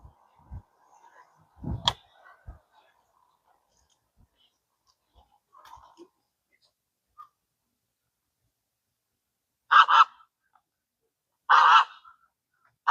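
Swans honking in Audubon Park, New Orleans: two loud, separate honks late in the clip, heard over a quiet park with a few faint scattered clicks and knocks.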